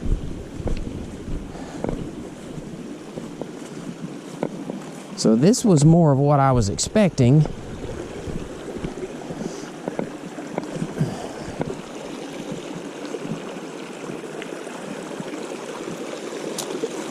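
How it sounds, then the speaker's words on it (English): A shallow, low-running stream crossing a hiking trail on Meigs Creek, heard as a steady, close rush of flowing water throughout, with a hiker talking briefly over it and some wind buffeting the microphone. "I started to hear the flowing of water, and sure enough, it looks like that we are coming up on a stream here"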